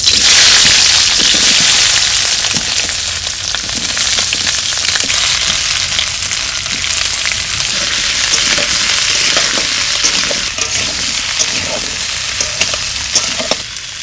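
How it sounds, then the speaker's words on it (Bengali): Green tomato frying in a pan, a loud, continuous close-up sizzle and crackle with stirring scrapes throughout, no talking. "টমেটোটা ভেজে নেব।"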